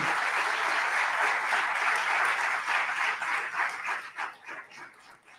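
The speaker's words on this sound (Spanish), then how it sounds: "a quien le damos un fuerte aplauso" A crowd breaks into sustained applause, dense and steady at first, then thinning into scattered claps as it dies away.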